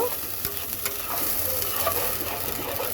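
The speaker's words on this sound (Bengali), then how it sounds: "তেলের মধ্যে মিক্সড করে দেওয়ার পরে আগে এটাকে দুই এক মিনিট একটু হালকা ভেজে নেব" Spice paste fries in oil with potatoes while being stirred, a constant close sizzle with scraping strokes of the spoon.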